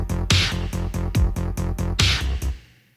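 Snare drum heard only through heavily affected parallel effect racks, with no dry signal: a steady run of about ten bright, processed hits with a tonal ring, loud and close, fading out at the end.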